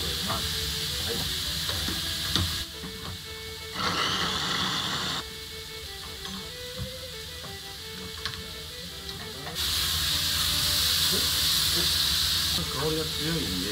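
Domestic garlic frying in a pan for a spice curry in a home kitchen at night: a steady hiss and sizzle with louder crackling bursts in the middle and near the end, close by.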